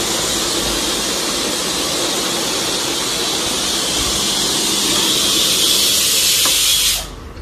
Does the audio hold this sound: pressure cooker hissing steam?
yes